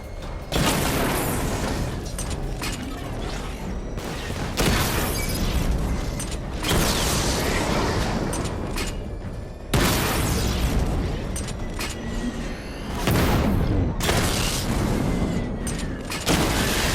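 Rapid missile barrage explosions from Batman: Arkham Knight, loud and dense, in repeated bursts of booms and blasts that fill the whole stretch with only brief dips between volleys.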